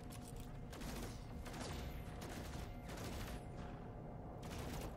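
The bolt caster multi-tool in No Man's Sky fires repeatedly at a butterfly, giving a rapid series of mechanical shots and bursts over steady game ambience.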